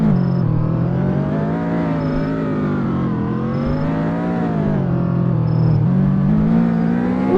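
A manual Honda Civic engine in Roblox drones steadily, its harmonic pitch gently rising and falling with throttle, loud and close with no voices.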